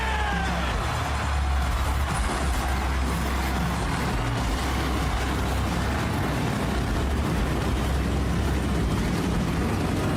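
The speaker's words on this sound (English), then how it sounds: "Gentlemen, start your engine!" Racing cars in a sim racing game at Atlanta roar as a full field of engines, forming a dense, steady, loud wall of engine noise that runs unbroken throughout.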